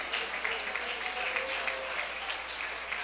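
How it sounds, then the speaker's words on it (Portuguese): Church congregation clapping for Jesus during a sermon, a dense, steady wash of applause that stays even throughout without a voice on top. "Pode aplaudir a Jesus"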